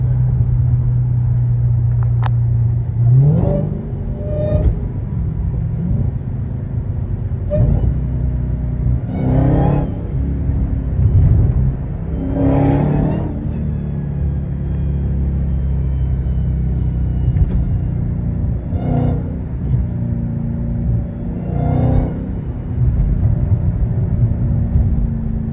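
A widebody Dodge Hellcat's engine rumbles loudly and steadily from inside the car. Several revving surges rise and fall as it accelerates, with no talking.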